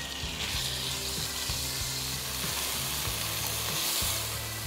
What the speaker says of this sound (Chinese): 起锅烧油，先把猪肉煎一煎